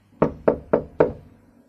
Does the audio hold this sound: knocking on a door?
yes